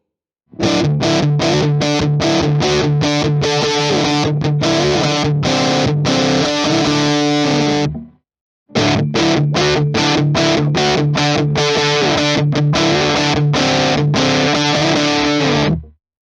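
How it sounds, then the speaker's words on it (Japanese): Electric guitar played through an Electro-Harmonix Nano Russian fuzz pedal, loud and heavily distorted chords and riffs in two bursts separated by a brief pause, with no talking. "ここで近くに本家エレハモのナノロシアンがいたので、ちょっと登場してもらいましょう。"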